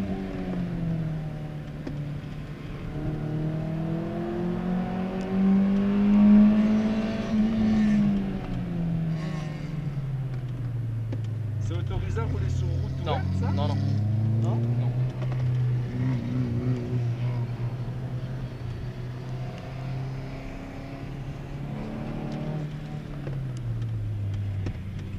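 Peugeot 206 GTI rally car engine running and shifting pitch, rising and falling through revs over about 25 seconds with a steady loud drone, on a damp greasy track, with a little talk mixed in.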